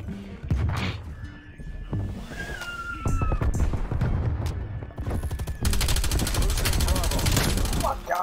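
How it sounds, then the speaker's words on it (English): Gunfire in the video game Black Ops Cold War rattles in rapid automatic bursts, loud and nearly continuous, layered with game effects and tonal sounds. "He shot them up."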